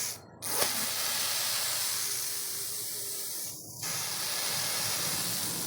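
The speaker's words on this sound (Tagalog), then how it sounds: "Sumasagitsit. Ang lakas ng sagitsit niya" Loud, steady hiss of nitrogen flushing through the refrigerant tubing of a Fujidenzo chiller refrigerator that has stopped cooling. The hiss runs almost continuously, with two brief drops, close up and with no talking.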